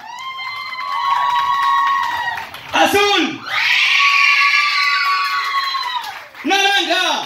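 Children shout and scream together at a clown's balloon game during a children's show, long high-pitched cries in several loud waves with short breaks between them; a man calls out briefly.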